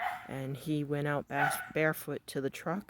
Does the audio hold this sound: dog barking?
yes